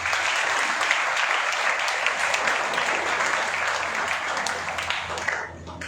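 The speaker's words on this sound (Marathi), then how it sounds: "टाळ्या थांबल्या का" Sustained audience applause in a hall at a school results felicitation for SSC toppers, dense and steady clapping throughout before fading near the end.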